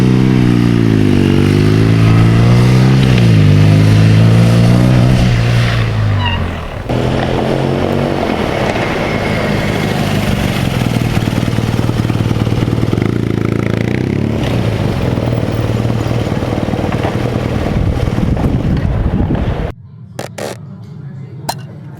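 2017 BMW R nine T Racer motorcycle riding, the engine loud and close as it revs up through rising gear sweeps, then settles into a steady drone before cutting off near the end.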